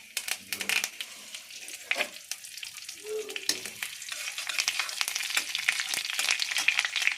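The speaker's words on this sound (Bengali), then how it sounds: "এর মধ্যে কারি পাতা দিয়ে দেবো" Curry leaves crackling and sizzling in hot oil while being stirred for alu dum, a busy run of sharp pops and spits over a continuous fry that carries on steadily throughout.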